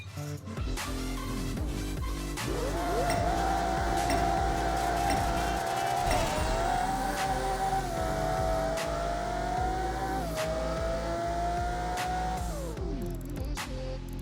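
Quarter-mile drag run in the racing game Apex Racer with a tuned car on a titanium-piston, intercooled build: a loud, continuous engine roar rising through several gear shifts, each marked by a brief dip before climbing again.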